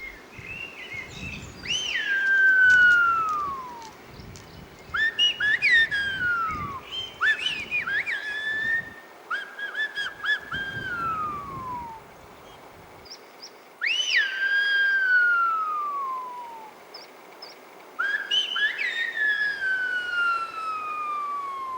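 Loud, piercing whistles of La Gomera's whistled language ring out in separate phrases, each sliding sharply downward in pitch, with pauses between them and faint rumbling underneath.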